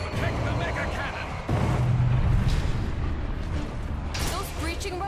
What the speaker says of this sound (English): Those breaching robots are explosive.